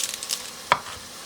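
Onion, celery, carrot and garlic hit a pan with plenty of olive oil, giving a soft steady sizzle with a sharp clatter of stirring partway through.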